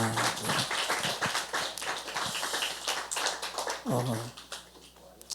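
A church congregation claps together in a burst of applause, steady and moderately loud, with a voice speaking briefly in Korean partway through.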